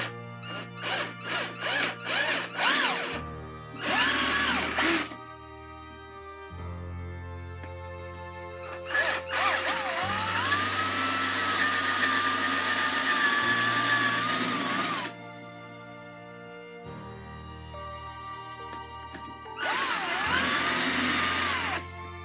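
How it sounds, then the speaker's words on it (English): A power drill bores holes into the damaged wood of an old door at the latch plate, with short on-off bursts of whirring followed by longer sustained high-pitched grinding runs, close and alone. "see if I can drill out a couple of holes here where the latch plate is"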